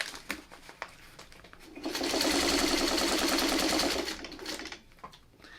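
A sewing machine stitches a quilt block in one steady, loud run of rapid needle clatter lasting about two seconds, with quieter handling clicks and taps of fabric and pins before and after.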